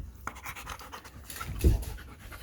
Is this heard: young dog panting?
yes